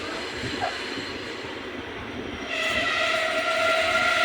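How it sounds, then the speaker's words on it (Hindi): Train arriving at Radhanpur railway station platform, a steady rumble of rolling railcars that swells louder and brighter partway through, with tonal horn-like and wheel-squeal lines joining as it draws near. "हमारी ट्रेन आई है प्लेटफॉर्म नंबर 2 पर"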